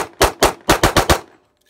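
Six rapid gunshots fired at a practical shooting championship, loud, close and sharp, in a quick rhythmic string of two then four before falling silent.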